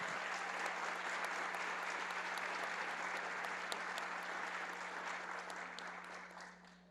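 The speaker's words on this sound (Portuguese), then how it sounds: "e todos recebem as nossas palmas." Applause from the audience at a condominium-law congress, a steady soft rain of many hands clapping from a distance over a constant low hum, tapering off in the final second.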